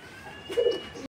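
A single cooing call from a silver Lahori pigeon, close and fairly soft, short and alone against a quiet background.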